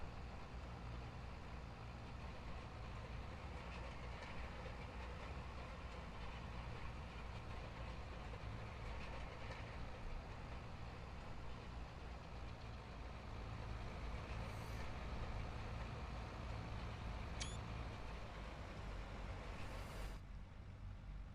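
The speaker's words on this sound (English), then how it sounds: "You can hear the strain in the engine, but we are getting it done." A heavy tractor engine in Farming Simulator 22 drones low and steady, straining while towing, with faint hisses of air breaking through near the end.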